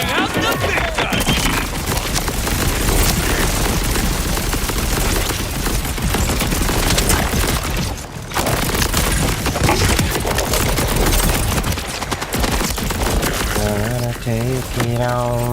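Rapid video game gunfire crackles in dense loud bursts throughout, with heavy weapons fire nearly continuous, a brief lull midway and a voice speaking over it near the end.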